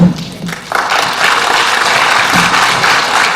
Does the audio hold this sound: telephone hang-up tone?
no